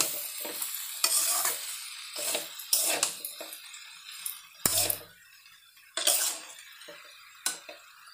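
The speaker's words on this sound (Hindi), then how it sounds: "सबको हम मसाले के साथ अच्छे से मिक्स करेंगे।" Mixed vegetables in a pan being stirred with spices for a restaurant-style mix veg sabji: a steady low sizzle broken by repeated scraping stir strokes, roughly one each second, close and moderately loud with no talking.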